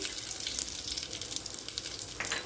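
Curry leaves and cashews sizzle in hot oil for Karnataka-style tomato bath, a dense close crackling hiss with small pops throughout, fairly loud and with no talking.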